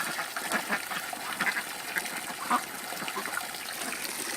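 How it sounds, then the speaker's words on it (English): Farm ducks quacking around filled water pans, several short nasal calls scattered over a few seconds with faint water trickling beneath, moderately close. "The ducks are enjoying them."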